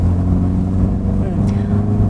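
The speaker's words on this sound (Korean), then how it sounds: "배기음 자체도 듣기 좋은 소리를 또 BMW 측에서 구현을 해내셨겠죠?" Exhaust note of a seventh-generation BMW 3 Series on the move, a steady, loud engine drone with harmonic layering that holds through deceleration, with a brief faint high tone partway through.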